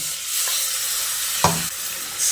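Rinse water from a mixer bowl hits sizzling mustard spice paste in a pan, producing a loud, brief burst of hissing and a bubbling thump over steady frying noise.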